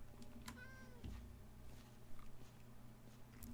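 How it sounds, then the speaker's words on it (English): A cat meows in Minecraft, a single short faint meow early on, followed by quiet game noises and soft chewing-like sounds. "How did a cat get around here?"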